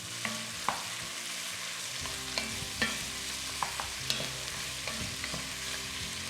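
Sliced onions and chicken thigh bones being mixed in a hot pan for tikka masala: a steady frying hiss with a series of sharp utensil scrapes and taps against the pan, close by.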